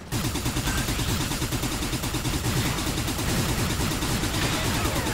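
Rapid, sustained gunfire from weak weapons in the first-person shooter Hard Reset, dense repeated shots in a continuous loud stream with no pauses.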